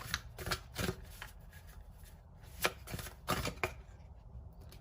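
Tarot cards are shuffled and drawn, giving several quick riffling bursts spaced irregularly over a few seconds, close and fairly soft against a quiet room.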